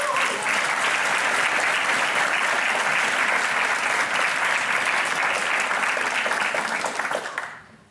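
Sustained, dense applause from a theatre audience at an acting-song festival evening, loud and even for several seconds before tapering off quickly at the end.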